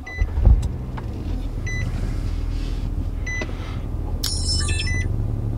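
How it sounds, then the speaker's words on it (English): A car is switched on with a dash cam fitted, giving a low steady hum and idle rumble, a few soft clicks and a chirpy electronic beep sequence near the end. "let's go ahead and turn on the car."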